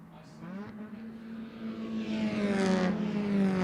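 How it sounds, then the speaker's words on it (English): A race car at Lime Rock Park during a Miatacon qualifying and race session passes with a rough engine note that swells and grows louder toward the end, with a commentator talking over it. "So Tucker went by and the car didn't sound happy."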